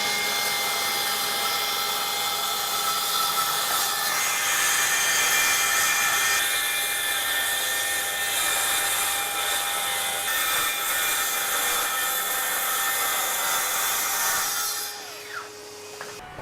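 Circular saw set to a zero bevel making a long straight cut through sheet material along a guide, a loud, steady whining buzz running for about fifteen seconds before the blade spins down near the end.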